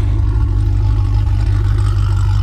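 Truck engine idling steadily in sport mode, a deep continuous low rumble close by with a constant loud drone and no clear rev peaks, no talking.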